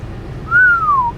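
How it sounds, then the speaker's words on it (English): A single whistle sound effect: one clear, sustained tone that rises slightly, then glides gently downward over about half a second. It plays alone over a faint low hum. "I gotta hit that whistle again."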